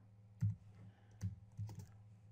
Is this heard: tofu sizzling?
no